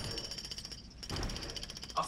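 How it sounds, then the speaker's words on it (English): Jackhammer effect from the LEGO Jurassic World video game, a rapid continuous mechanical rattle lasting about two seconds at moderate level, with game music and effects around it. "We have a jackhammer."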